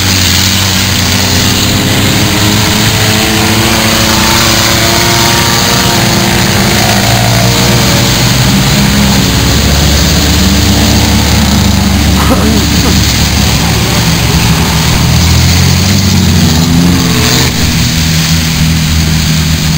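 Race cars circle an ice racing track, their engines droning and revving loudly and continuously at close range, mixed with wind buffeting and people talking.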